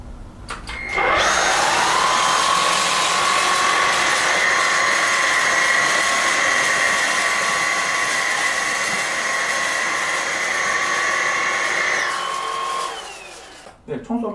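Two cordless vacuum cleaners, a Dyson V8 and a Dibea D18, suck loose cereal off a floor, a loud steady high-pitched motor whine with rattling debris running continuously for about twelve seconds before cutting off.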